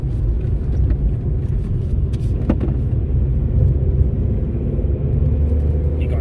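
A Geo Tracker driving the winding US 129 Tail of the Dragon between Tennessee and North Carolina, heard from inside a following car as a steady, loud low road rumble and engine drone with a few brief rattles.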